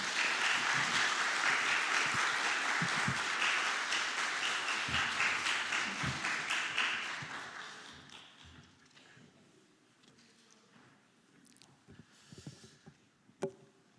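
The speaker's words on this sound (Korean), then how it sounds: "목사님을 환영하는 박수로 우리 맞이하도록 하겠습니다" A church congregation at a Sunday service claps in welcome for a visiting pastor who leads a children's mission group, a dense, loud round of applause that lasts about seven seconds and then fades into quiet room noise with a few scattered claps.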